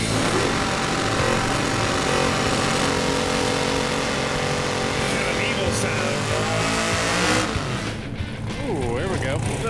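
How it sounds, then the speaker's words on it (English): A loud, roaring engine of a 1984 Chevy S-10 revs hard and continuously in a sideways burnout, tires screeching, while a voice talks over the noise. "Sideways, nasty burnout."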